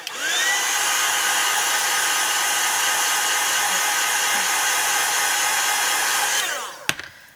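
A hair dryer blows steadily for about six seconds, drying paint on a mixed media canvas, loud and close with a constant whooshing hum, then spins down and clicks off.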